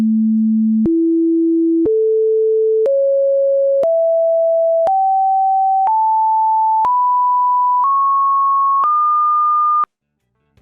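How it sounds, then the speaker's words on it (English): Pure sine tones step upward through the harmonic series of an A2 note, ten steady one-second tones each rising in pitch, loud and clean with no other sound, ending in silence. "Let's take a listen at the harmonic scale of this A2 note."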